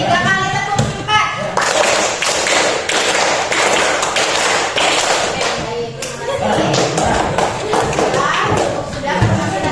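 A class of students claps out a rhythm pattern in unison, loud and crowded, with a short pause partway and voices mixed in around the claps.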